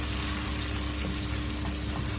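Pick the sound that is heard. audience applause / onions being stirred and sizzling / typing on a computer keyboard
onions being stirred and sizzling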